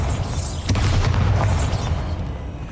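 Bombarda blasting spell cast in Hogwarts Legacy, a deep, rumbling boom with a sharp crack near the start, followed by a sustained roaring burst and debris-like rumble, loud and close.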